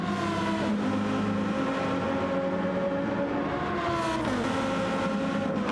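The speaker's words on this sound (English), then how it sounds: "We love to hear that sound of that engine." Race car engine revving in a sim racing game during a 12-hour endurance race at Watkins Glen: a steady, loud, tonal engine drone that rises and falls with the throttle, sounding continuously with no talk.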